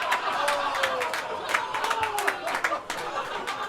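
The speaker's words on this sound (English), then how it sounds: "A little clap for that one, Komanda." Comedy club crowd at a stand-up special clapping and cheering in scattered bursts, with chatter and lively reactions mixed in at close range throughout.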